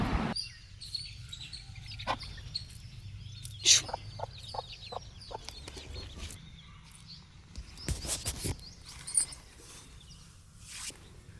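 Farm chickens sheltering from the sun under a bottle gourd vine cluck softly and irregularly at close range over a quiet outdoor background, with a few sharper calls and rustles mixed in.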